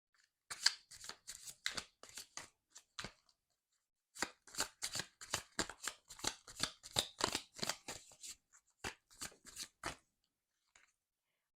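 Tarot cards shuffled by hand, rapid crisp riffling bursts in quick uneven runs with a pause partway, close and clear, no voices.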